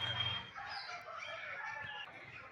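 A golden pheasant or similar chicken-like bird calls with short clucking, crowing notes at a marine and dino park exhibition on RK Beach in Visakhapatnam, heard faintly over a soft crowd murmur.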